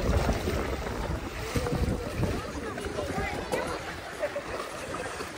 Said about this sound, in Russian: Кстати, ветер сильный